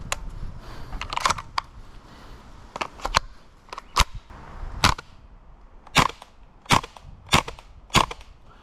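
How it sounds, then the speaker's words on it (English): An airsoft submachine gun fires in full auto, sharp clacking shots popping in short rapid clusters and singles, fairly close and crisp against a quiet background. "Let's see what the rate of fire of the full auto is"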